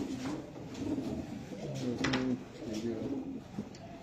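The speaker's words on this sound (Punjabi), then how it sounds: "ਅੱਛਾ ਕਬੂਤਰ ਜਦੋਂ ਹੱਥ ਜਾਂਦਾ ਵੈਸੇ ਹੀ ਬੋਲ ਪੈਂਦਾ" A pigeon held in the hand coos in soft, low repeated burbles, close by, with quiet handling sounds and faint talk in the background.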